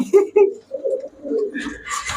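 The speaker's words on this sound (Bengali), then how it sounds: "মাশাআল্লাহ খুবই সুন্দর কবুতর" Giribaz pigeons coo nearby in a series of low, throaty calls, with some brighter sounds near the end.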